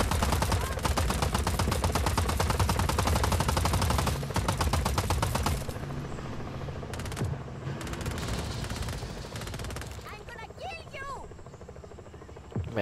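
Helicopter and gunfire in the video game Just Cause: dense rapid machine-gun bursts over a loud rotor throb, fading to a steadier chopping drone with scattered shots and brief voices near the end.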